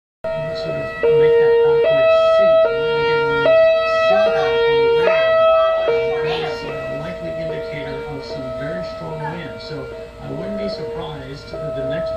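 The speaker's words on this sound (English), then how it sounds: "Okay, our sirens are going off now." A tornado warning siren wails, rising and falling in steady stepped tones, loud and sustained, with voices talking faintly underneath.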